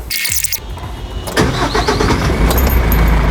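A GAZelle NEXT refrigerated van's engine cranks and catches about a second and a half in, then settles into a loud, steady running rumble close by, with no talking.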